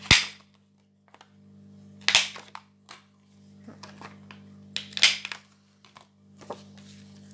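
Sharp, crisp clicks of a corner rounder punch cutting paper corners ring out one at a time, three louder cuts spaced a few seconds apart with small handling noises between, close and unaccompanied by speech.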